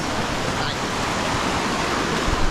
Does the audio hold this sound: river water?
yes